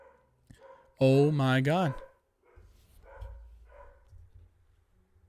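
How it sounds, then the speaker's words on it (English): Dogs barking indoors near someone talking, with a loud drawn-out howling bark burst before quieter rumbling noise continues under his speech. "ignore the dogs barking in the background"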